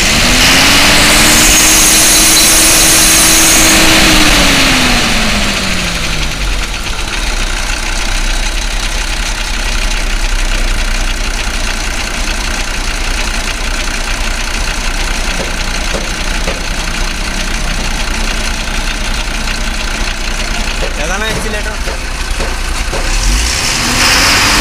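An Ashok Leyland truck diesel engine revs up under full accelerator, climbing loudly then settling into a steady, heavy idle with knocking, close and continuous without talk.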